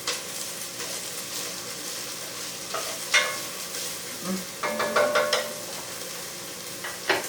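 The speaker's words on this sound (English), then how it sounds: "We're going to want this to be a nice golden brown, these onions." Chopped onions frying in a pan toward golden brown give a steady, close sizzle, broken by several clinks and scrapes of stirring, with no voices.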